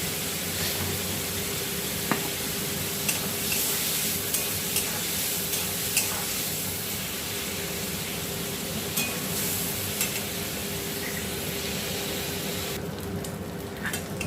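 Prawns seasoned with salt and turmeric fry in hot oil with a steady, dense sizzle and crackle, punctuated by occasional sharp pops and stirring clicks, close and continuous throughout.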